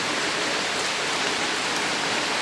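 Heavy rain pours down on a farmhouse and trees in a dense, steady hiss, loud and unbroken, with no voices.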